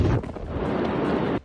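A massive warehouse explosion captured by bystanders filming from nearby, a single loud booming blast with a rumbling roar that holds steady before cutting off sharply.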